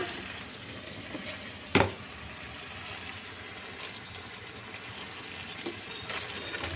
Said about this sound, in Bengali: আদা বাটা দিয়ে নেড়ে নিচ্ছি আলু টমেটো আদা বাটা বাটা একটু একসাথে নেড়ে নিচ্ছি